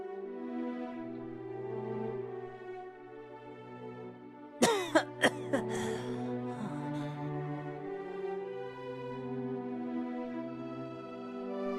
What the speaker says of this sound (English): His cough is getting worse.